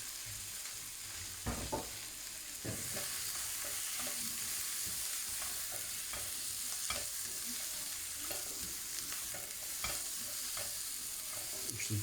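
Onions for chicken jalfrezi fry in a pan with a steady, soft sizzle, broken by occasional scraping clicks as they are stirred, heard up close with no talk.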